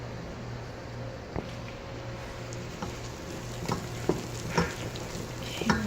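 A marshmallow mixture with vanilla and salt is stirred in a pan, giving a soft continuous sizzle with scattered light scrapes and taps from the utensil, close and steady with a low hum beneath.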